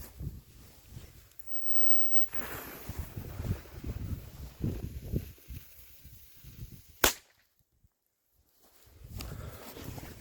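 A small firecracker set in the dirt outdoors goes off as one sharp, loud bang about two-thirds of the way through, after a stretch of low rustling and handling noise. Near-silence follows the blast.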